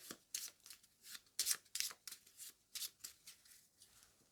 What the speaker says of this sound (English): And we've got Siege 2, we'll give a quick shuffle to.